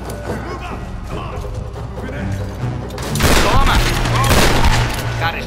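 Bursts of machine gun fire in Tomb Raider, loud rattling volleys that grow heavier midway, mixed with explosions and battle noise, with someone talking over the action.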